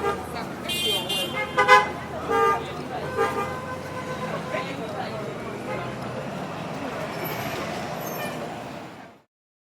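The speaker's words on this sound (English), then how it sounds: "Traffic was very heavy on the street." Heavy city street traffic near construction, with several loud car horns honking in quick succession at the start and a steady rumble of passing vehicles continuing until it cuts off.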